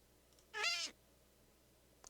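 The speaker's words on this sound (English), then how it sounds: "I see a kitty cat, or an ocelot, and so I'm interested to see what kind of sounds he might make." A single short meow from an ocelot in the video game Minecraft sounds clearly on its own, followed by a tiny faint click near the end.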